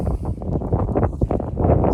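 Strong, gusty wind roars and buffets the microphone over a 4-acre overgrown farm field being cleared and disked, a steady rushing texture with uneven surges throughout.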